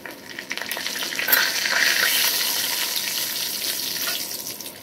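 Whole cumin and a bay leaf sizzling in hot oil in a pan, a close crackling fry that swells as the leaf goes in and then settles to a steady hiss, no talk.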